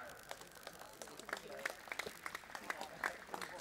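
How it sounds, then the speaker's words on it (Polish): Faint, scattered clapping from a modest crowd at a football award ceremony in Rzeszów, uneven hand claps heard at a distance with a voice over the public address. "Wielkie brawa."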